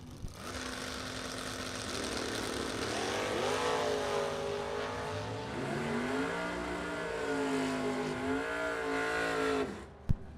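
Drag race cars, a Chevrolet Camaro and a Chevrolet Cobalt, roar down the strip at a bracket race, their engines rising and shifting in pitch as they accelerate, loud and sustained before cutting off abruptly near the end.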